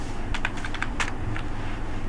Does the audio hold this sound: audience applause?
no